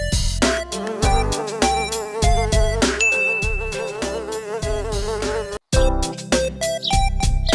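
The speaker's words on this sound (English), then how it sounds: "But why are the bees chasing them?" Cartoon bees buzzing as they chase a witch, wavering whiny tones over punchy music hits in a busy animated scene, loud and close.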